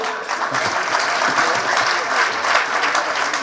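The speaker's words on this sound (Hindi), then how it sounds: "ताली वाली बजाते रहो" Steady applause from an audience at a Hindi comedy show, dense and continuous clapping that holds at an even level throughout.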